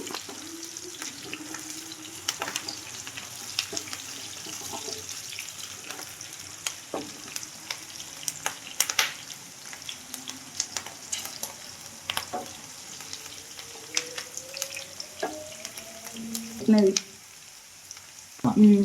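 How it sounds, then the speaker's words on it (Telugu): Frying in a pan until golden brown, with a low continuous sizzle broken by frequent clinks and scrapes of a spatula against the pan, close and fairly quiet, with a little faint speech-like sound mixed in. "గోల్డెన్ కలర్ వచ్చే వరకు ఫ్రై చేసుకోండి"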